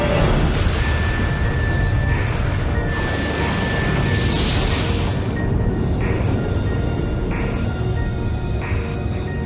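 A rumbling explosion sound effect depicting a solar flare, a sustained loud roar with scattered crackling booms across the whole stretch, dense and continuous.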